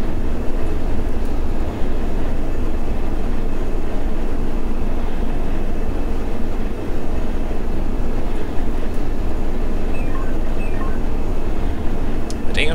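A train rumbles steadily in the Train Simulator 2014 video game, a BR-143 locomotive giving a continuous loud low drone with rail noise and faint clicks throughout, unbroken for the whole stretch.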